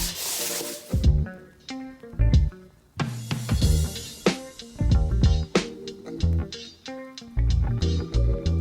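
Hand sanding of brittle fairing compound on a roof: close, rhythmic scraping strokes in quick bursts with short pauses between them.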